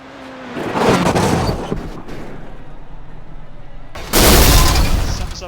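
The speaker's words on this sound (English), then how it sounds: "Wow, that was a loud explosion." A loud explosion bursts in an F4 racing video game at Spa-Francorchamps, two broad roaring blasts of noise rising over engine hum, the second one near the end strongest, with voices faintly under it.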